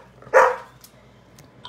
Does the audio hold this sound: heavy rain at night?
no